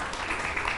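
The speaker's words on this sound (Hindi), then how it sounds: "सारा के लिए पहले तालियां बजाए ना।" A brief burst of applause from an interview audience for Sara, a short steady patter of many hands clapping heard close by.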